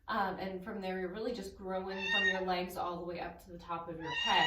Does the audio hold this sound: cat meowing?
yes